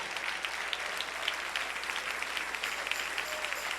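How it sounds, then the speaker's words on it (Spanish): Steady applause from a church congregation fills the space, a dense wash of many hands clapping at a constant level with no voices rising above it. "Dale un aplauso al Rey."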